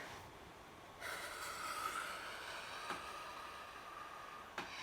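One person exhales during a breathing gymnastics lesson, a soft, faint rush of breath lasting a few seconds against quiet room noise, with small puffs after it.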